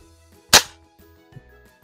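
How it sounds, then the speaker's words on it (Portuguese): A single air rifle shot fired indoors toward the floor: one sharp, loud crack that decays quickly, followed by a faint click a moment later in an otherwise quiet room. "todos os disparos feitos aqui no interior, na direção do chão"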